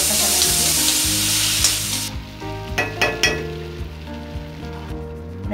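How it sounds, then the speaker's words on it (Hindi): Cumin seeds frying in melted butter for dal makhani, a strong sizzle that cuts off after about two seconds, leaving background music with a few soft clinks. "तो हम डालेंगे पहले जीरा, थोड़ा सा जीरा भूनने देंगे।"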